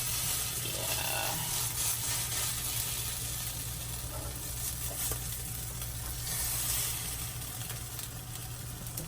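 Coconut mini pancakes cook in a pan on medium heat with no added oil, producing a soft, steady sizzle and light spatter under a constant low hum.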